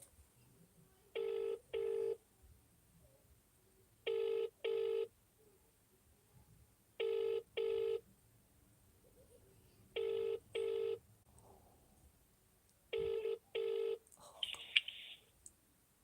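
A telephone ringing in five evenly spaced double rings, clear and steady, with faint background noise in between.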